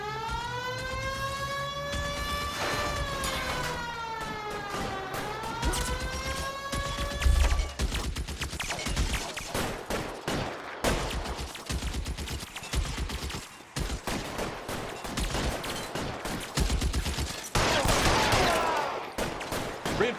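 Shootout gunfire in the video game L.A. Noire, dense rapid bursts and single shots crackling continuously after a wailing siren rises and falls at the start, with hoofbeats and engine noise mixed in.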